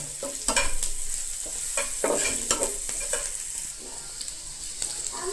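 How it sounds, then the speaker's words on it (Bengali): Onion, chili and garlic fry in a pan of hot oil, a steady high sizzle broken by repeated scraping stirs of a spatula every second or so, close and clear. "আমি পেঁয়াজ, মরিচ, রসুন একবারে ভেজে নিচ্ছি"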